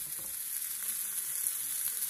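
Tomato, onion and courgette left to fry in a pan, giving a steady, even sizzle with a bright hiss and no stirring or voices, close and continuous.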